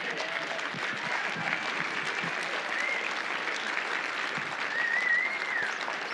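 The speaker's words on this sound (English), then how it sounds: "They deserve a huge round of applause." Audience applause at the SAINTCON 2023 closing ceremony, a steady sustained wash of clapping from a large crowd filling the whole stretch, with faint whistles and cheers mixed in.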